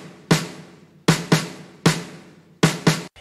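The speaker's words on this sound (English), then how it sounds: "So this snare by itself sounds like this." A thin, papery snare drum sample in an Abbey Road 1960s drummer style, heard alone as six dry cracking hits with a brief noisy tail, spaced irregularly and close.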